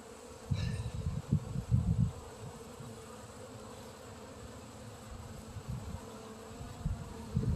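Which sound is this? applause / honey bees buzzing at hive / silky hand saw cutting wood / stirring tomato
honey bees buzzing at hive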